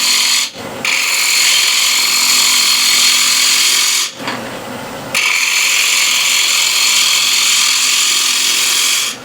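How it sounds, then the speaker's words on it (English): A spindle gouge rubs down a spinning wooden platter on a lathe, giving a loud, continuous rasping hiss with a steady motor hum, broken by two short pauses. "you can use a spindle gouge to rub this down"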